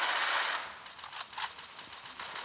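Automatic gunshots in Free Fire, a rapid burst of shots fading into a rattling sequence of fainter reports, moderately quiet and without talk.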